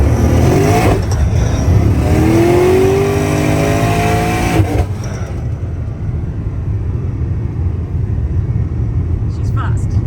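Twin-turbo VF street car accelerating hard in second gear, a loud, close engine roar rising steadily in pitch from inside the cabin, then easing off into a lower rumble.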